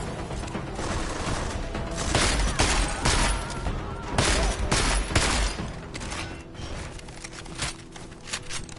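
Rapid gunfire volleys from the video game Deus Ex Mankind Divided, with clusters of sharp shots and mechanical clatter over several seconds, loud and close, easing toward the end, with no talking.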